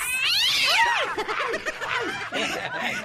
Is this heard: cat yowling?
yes